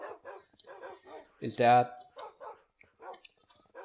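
Tamed dogs in the Minecraft video game let out one loud, close bark burst amid a rapid string of short yips, while someone talks.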